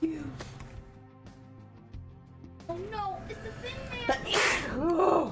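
A single sharp sneeze bursts out near the end, following a short exclamation from a voice; other voices and faint background sounds sit underneath.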